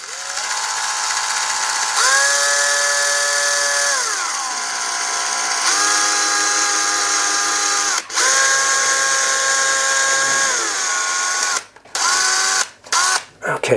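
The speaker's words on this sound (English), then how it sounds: "so let's pre-drill this hole here" A power drill pre-drills a screw hole for a curtain rod, its motor whining loud and close in long sustained runs that rise and fall in pitch, followed by a few sharp knocks and handling sounds.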